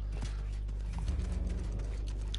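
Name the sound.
horse hooves clip-clopping in the video game Realm Royale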